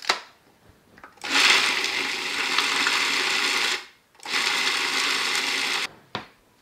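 Small food processor whirring as it mixes ingredients with two teaspoons of cinnamon, two sustained loud motor bursts of a few seconds each separated by a brief pause, then a short final pulse.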